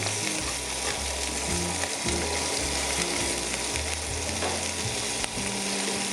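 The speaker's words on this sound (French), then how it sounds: "Ensuite, sur le côté, on va mettre les oignons." Onions sizzle in a frying pan as part of a red-wine chicken fricassee. A dense, continuous frying hiss is heard up close, with light stirring clatter beneath it. No one speaks.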